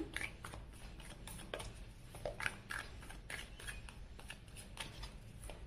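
Tarot cards being shuffled by hand, giving faint, close, irregular papery riffles and soft flicks in short bursts against a quiet background with no speech.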